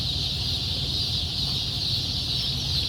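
Silver Appleyard ducklings at a hatchery chirp and peep continuously at close range, a dense, steady chorus of high calls over a low rumble.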